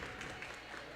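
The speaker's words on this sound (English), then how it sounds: "when there's a timeout call, they clap, try to get some energy going" A volleyball team claps together during a timeout in a JV match, a dense, steady burst of applause filling the gym with no pauses.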